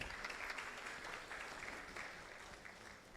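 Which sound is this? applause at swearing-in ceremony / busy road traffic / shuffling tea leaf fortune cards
applause at swearing-in ceremony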